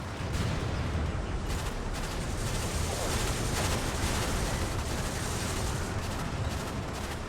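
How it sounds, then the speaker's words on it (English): Air-support explosions in the war game Graviteam Tactics, during a 1986 Cold War battle in Africa (SADF Operation Moduler), form a dense, continuous rumbling barrage of blasts and gunfire, loud and unbroken throughout. "Saw a few explosions over there."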